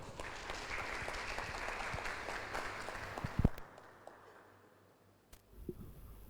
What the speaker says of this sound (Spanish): Y pido para él un muy fuerte aplauso